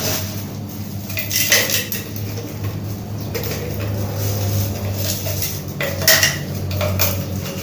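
Chunks of alum crystal dropped into a roll-on bottle: small, hard clinks and rattles scattered over several seconds, close by, over a low steady background hum.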